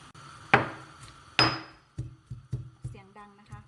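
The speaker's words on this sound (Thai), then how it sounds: "เสียงดังนะคะป้าจะโขลกให้แหลกก่อนนะคะแหลกละเอียดก่อน" Black sesame is pounded in a mortar with a pestle, giving a series of sharp, close thuds at an irregular, slowing pace, the first few strongest, in an otherwise quiet kitchen.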